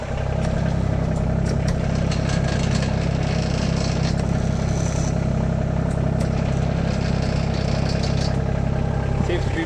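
A compact tractor engine runs continuously with a loud, steady low rumble and clatter while the RK 25 hydraulic top link is operated, a voice speaking over the engine noise.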